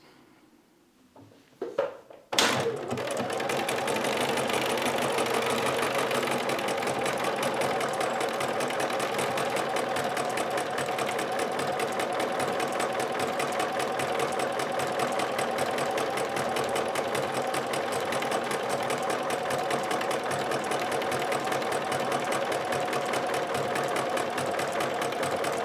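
Sewing machine stitching an appliqué inner ring onto a quilt background runs as a steady, continuous mechanical whir that starts after a short pause and holds an even, fairly loud level to the end.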